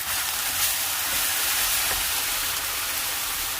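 Large chunks of one chopped medium onion hiss and sizzle steadily in a scorching hot pan, a loud continuous broadband sizzle with no talking.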